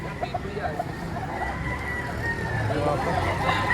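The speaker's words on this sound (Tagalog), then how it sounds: "Ayan, magandang manok." A Boston-line gamefowl rooster at a crowded Tuesday poultry market in Padre Garcia, Batangas, crows and clucks among several birds, heard over a steady babble of people talking and some distant traffic.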